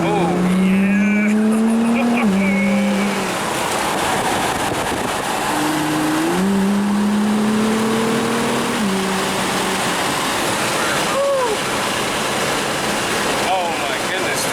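A Nissan GT-R's engine drones loudly, its pitch rising and dropping through gear changes, with tire noise and a voice talking over it.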